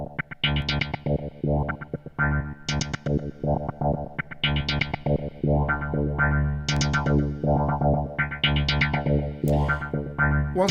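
Synth arpeggiator pattern from the Groove Rider GR-16 iOS groovebox app, processed with echo and reverb: rapid repeating stepped notes cycling in a steady loop, bright and continuous, with no voices.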